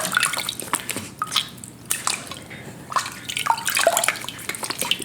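Water from a small tub splashes and drips as a face is rinsed by hand, giving irregular close splashes and trickles in short bursts with brief quieter gaps, and no talking.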